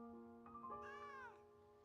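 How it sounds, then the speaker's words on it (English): A cat meows once in the Genshin Impact video game, a drawn-out, rising-then-falling call over a faint steady tonal backdrop, heard alone without talk. "When you're done meowing."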